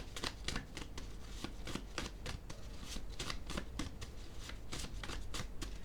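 Tarot-style cards riffled and shuffled by hand for a card reading, a steady run of quick papery bursts close up throughout with no talk.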